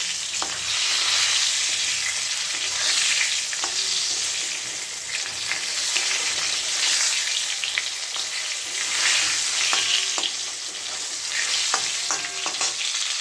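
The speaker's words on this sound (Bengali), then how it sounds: "পটলগুলো সুন্দরভাবে ভেজে নিয়েছি, এবার তুলে নেব। ভালো করে ছাকা তেলে ভেজে নিয়েছি।" Sliced pointed gourd (potol) deep-frying in hot oil for a poppy-seed dish, giving a steady loud sizzle with occasional clinks of a spatula against the pan, no voices.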